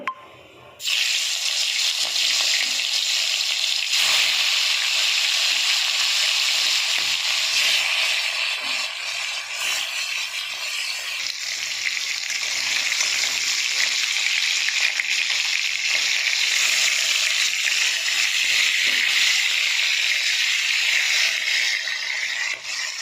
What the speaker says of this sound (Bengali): আমি কড়াইতে তেল দিয়ে দিয়েছি, মাছগুলো ভেজে নেবো।